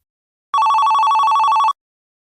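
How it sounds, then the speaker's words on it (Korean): A telephone bell rings once in a single burst of a little over a second, a bright, rapidly trilling electronic ring, close and loud against silence before and after. "전화가 왔습니다"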